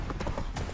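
Horse hooves clip-clopping in a quick galloping rhythm, Roach ridden in The Witcher 3 game, rapid repeated thuds under a dense rumble of game sound.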